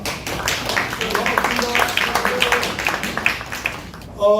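Welcoming applause greets a Daejeon city council steering committee chairman at a public hearing on urban regeneration near Daejeon Station, many hands clapping steadily for about four seconds with voices murmuring underneath.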